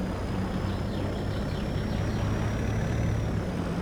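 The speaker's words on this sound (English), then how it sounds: "I like the sound of this truck too, it sounds so good." A truck engine in Farming Simulator 22 drones low and steady with a constant rumble and a faint high whine on top, close and loud throughout with no talking.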